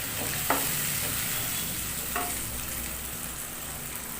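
Water goes into a sizzling spice paste in a pan for an egg curry, giving a loud, steady hiss of frying with a couple of brief utensil clinks early on.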